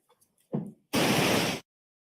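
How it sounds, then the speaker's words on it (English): A burst of white noise played in a courtroom during a sidebar, a loud, even hiss lasting under a second. A short thump comes before it and silence follows. "some weird white noise is going to come on"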